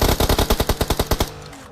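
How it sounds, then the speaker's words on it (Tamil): Loud automatic gunfire rings out in a video game, a rapid steady burst of about a dozen close shots that stops abruptly, leaving a short fading tail, with no talk over it. "அது துப்பாக்கியில் சுடு"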